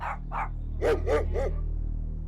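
Kept dogs bark in a short run of about five sharp barks, the first two higher and thinner, then three louder, deeper ones, over a steady low mechanical hum, with no voices.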